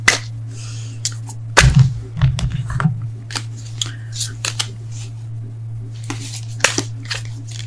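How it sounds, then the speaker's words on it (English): Tarot cards are shuffled in quick, irregular snaps and flutters, close by, over a low steady hum while someone talks. "I can't shuffle either"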